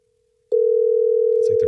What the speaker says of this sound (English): like there's 2 phones ringing.